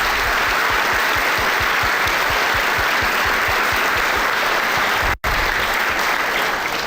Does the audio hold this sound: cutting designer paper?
no